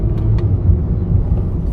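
A Honda Jazz V-Line hatchback with an automatic CVT revs in sport mode, giving a low, steady rumbling engine drone heard from inside the cabin, with a couple of faint clicks near the start.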